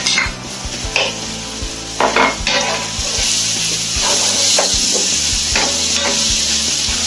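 Garlic and mushrooms frying in a pan, a steady close sizzle with repeated clinks and scrapes of a utensil stirring through the pan.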